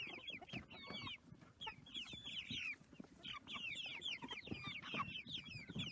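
Chickens cluck steadily in a chicken run, a dense chorus of overlapping calls and short squawks from several birds close by, continuing without pause and with no talking.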